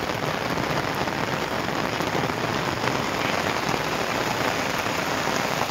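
Heavy monsoon rain pours steadily in a village beside the flooding Tiru river, a dense, continuous hiss of drops pounding surfaces up close with no pauses and no voices.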